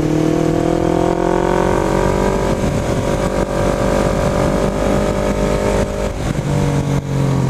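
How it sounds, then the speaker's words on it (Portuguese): Honda CB500 two-cylinder motorcycle engine revving: a loud, close, continuous twin-cylinder roar that rises and holds with harmonic engine tones, easing slightly toward the end, no speech. "Só uma aceleradinha mesmo, só pra sentir."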